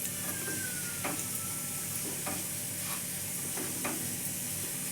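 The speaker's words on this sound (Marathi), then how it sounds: "आता त्याच्यामध्ये रवा टाकून भाजून घेऊ" Coarse semolina dry-roasting in a pan for mango ladoos gives a steady close sizzle and hiss, with several soft scraping strokes of stirring and no voices.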